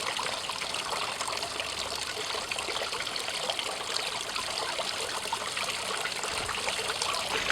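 Water runs steadily through a koi pond filter system, a constant close trickling stream with a hissy, even texture that does not let up, with no voices.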